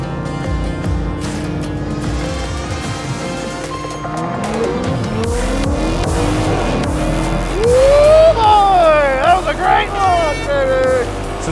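A car launches off the line at a drag strip, its engine roaring up through the revs before the tires squeal loudly as they grab, all under ongoing talk.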